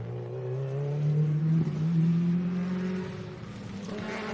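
A rally car powers out of a corner on a Queensland rally stage, its engine rising in a strong, steady revving drone from a moderate distance, then easing off toward the end.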